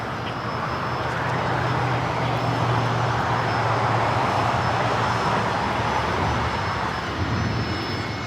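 An Alaska Airlines jet in Star Wars livery takes off from the north side at Los Angeles LAX, a loud, sustained engine roar with a low rumble that stays steady throughout.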